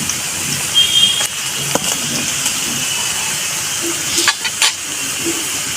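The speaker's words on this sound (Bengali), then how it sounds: "পেঁয়াজটা আমি এইভাবে ভেজে নিয়েছি।" Onions sizzling in a pan for a spicy Bengali chicken kosha, a steady loud hiss of frying with a few brief clicks and scrapes from stirring, close up.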